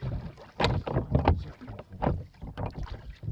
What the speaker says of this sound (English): So now I'm rowing against the tide